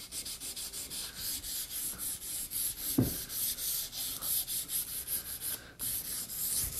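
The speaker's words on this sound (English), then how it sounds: "run your sandpaper over the waxed surface here" Sandpaper rubbed back and forth over the waxed surface of a wooden axe handle, a close, steady rhythmic scratching of repeated strokes with one brief knock midway, and no talk.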